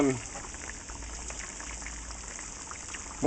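Homemade french fries blanching in oil kept fairly low, a steady close bubbling and fizzing hiss that holds constant throughout with no talk.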